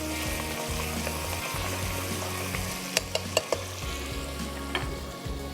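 Spices for mutton mewa pulao fry in hot oil, giving a steady close sizzle with a low hum underneath and a few sharp clicks of utensils against the pan near the end.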